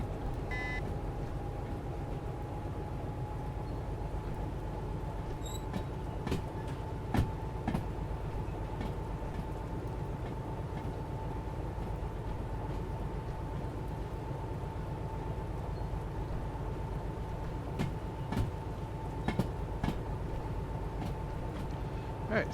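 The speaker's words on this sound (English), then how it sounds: "we just need to get our back of our train past that switch there" Freight train rolling on rails in the Derail Valley railway simulator, a low continuous rumble with a steady tonal hum and occasional sharp clanks and rail clicks, moderately quiet and unbroken throughout.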